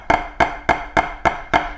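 Tenor drum double stops struck six times in a steady rhythm, each hit a short, sharp crack with a slightly split, flam-like attack, close and fairly loud with brief decay between strokes.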